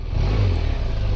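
The engine of a 2017 BMW R1200RT motorcycle revs as the throttle is twisted, giving a brief, close, steady low rumble.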